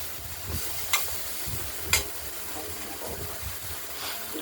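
Pumpkin cut into thin strips fries in oil in a kadai with mustard seeds and green chilli, giving a steady low sizzle with soft stirring scrapes and two sharp clinks of a utensil against the pan.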